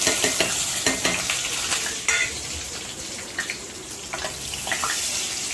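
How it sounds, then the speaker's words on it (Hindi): Garlic fries in hot oil with asafoetida, a steady sizzle with scattered sharp pops and crackles, close and moderately loud, alongside intermittent stirring clinks. "हमारा तेल हो चुका है गरम, हमने डाली इसके अंदर हींग। फिर मैं ये डालूँगी लहसुन।"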